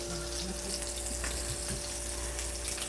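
Ancho-crusted salmon sears in a hot pan with a steady, close sizzle, joined by a few soft clinks and scrapes.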